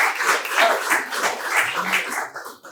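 An audience at a community awards event claps in a short round of applause, a dense patter of hands that holds steady and then tapers off near the end.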